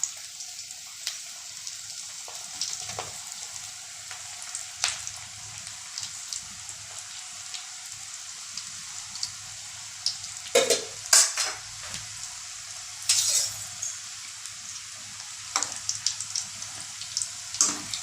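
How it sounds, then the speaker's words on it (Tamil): Pakoda fritters fry in hot cooking oil with a constant bubbling sizzle, broken now and then by the clatter of a utensil stirring and turning them in the pan. "எண்ணெயில் போட்டு எடுத்துட வேண்டிதான்"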